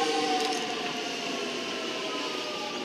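A Melbourne Metro suburban train pulls into Holmesglen station as a steady, close rail rumble, with sustained tonal whine from the motors and brakes holding through the whole stretch.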